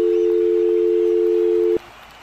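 A steady electronic phone tone rings out loud and unbroken for nearly two seconds, cutting off abruptly, then a faint hiss remains.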